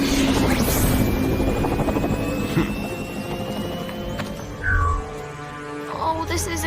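A flying drone in a cartoon buzzes loudly with a whining rotor drone that holds steady, then briefly swells and fades near the end amid other cartoon sounds.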